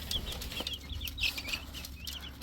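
In a pen, a mother hen and her young chicks make quiet sounds: high, thin peeping chirps scattered in quick bursts over a soft low background, faint and close.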